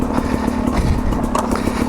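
Sherco 250 SE two-stroke dirt bike descends a steep off-road slope, its engine a steady close low drone with rattling and scraping over rough ground.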